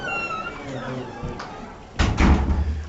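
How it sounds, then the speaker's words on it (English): A door shut in a classroom or study room: after a woman's brief speech comes a loud, close thud with a rattling impact, then a short noisy tail. "Shut that door on the way out."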